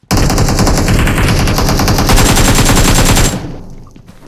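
Sustained machine gun fire in PUBG Mobile, a loud rapid stream of shots lasting over three seconds before cutting off and leaving a brief fading echo.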